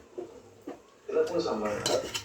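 Chicken biryani ingredients being mixed in a metal pot: a couple of soft taps, then a closer, louder stretch of spoon scraping and clinking against the pot, with faint background voices.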